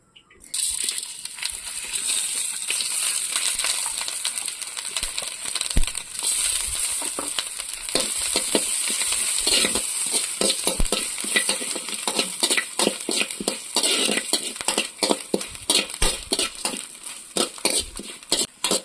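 Spices and curry leaves for a Tamil rasam fry in a pan. A bright, dense sizzle runs throughout, broken by frequent scraping stirs and clinks from a spoon on metal, close and fairly loud.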